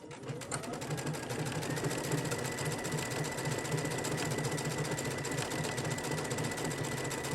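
A sewing machine, fitted with an upgrade kit, runs tapering stitches in a steady, fast mechanical whir. The close, continuous hum and rapid needle clatter last throughout with no talking.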